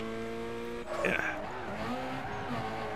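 Tire squeal from a car drifting through a canyon race in Need for Speed: Carbon, a short rising screech over a steady engine drone, with a voice talking underneath.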